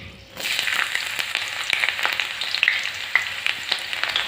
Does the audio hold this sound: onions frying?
yes